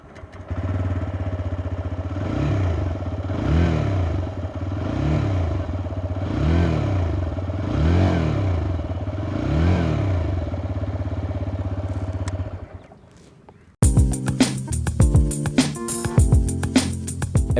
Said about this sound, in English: Now for a 125cc motorcycle, the TVS Raider has quite a throaty exhaust.